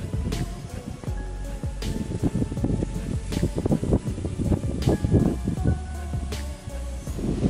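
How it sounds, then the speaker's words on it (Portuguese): Wind gusts outdoors beside a building near a pool, a steady rushing roar buffeting the microphone with low thumps and rustling throughout. "Olha o vento vindo aí."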